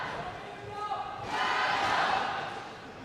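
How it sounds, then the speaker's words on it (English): A crowd cheers at the 2015 SKYCITY New Zealand Open, a women's singles round-of-16 table tennis match: the crowd noise swells into a broad roar for about a second before fading, while a commentator keeps talking throughout. "the volume from the crowd has certainly increased in the last 5 to 10 minutes"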